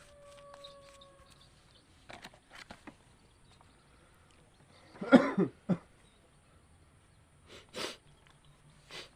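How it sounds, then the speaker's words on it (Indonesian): A few quiet coughs in a mostly hushed room, a short cluster in the middle and a couple more near the end. "mohon maaf di sini lagi pada batuk"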